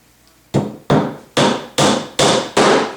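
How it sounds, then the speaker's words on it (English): A hammer drives nails into the wooden frame of a Smartwood harp kit: six loud, sharp blows land at an even, steady pace, close by, with no talking. "adding these nails across the bottom prevents any movement at all"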